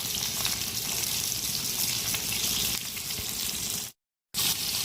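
A rib eye steak fries in a hot pan with a loud, steady, close sizzle that crackles continuously, thinning slightly toward the end and cutting out briefly before returning.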